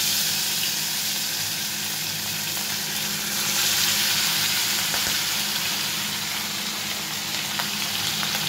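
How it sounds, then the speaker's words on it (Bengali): Fish sizzles continuously in hot mustard oil in a wok, a steady, loud hiss with faint scraping and stirring noises and no voices. "মাছগুলো ভাজা হোক"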